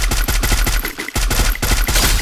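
Rapid automatic gunfire in the mobile battle game Free Fire rattles out in loud, close bursts of evenly spaced shots, broken by a short pause midway, with no voices.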